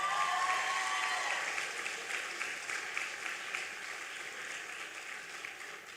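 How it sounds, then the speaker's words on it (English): Applause from a graduation audience at Alleyne School in Barbados, a sustained wash of many hands clapping that stays steady and fairly loud before easing slightly toward the end. "You can applaud for that."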